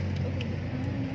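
Road traffic on a rainy street, a close, steady low rumble of a car engine with a faint rising rev, heard briefly and without any voices.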